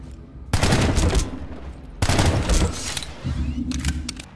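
Pistol fire from the NS-45 Pilot in the shooter PlanetSide 2, heard as three dense bursts of rapid, loud, close shots separated by short gaps.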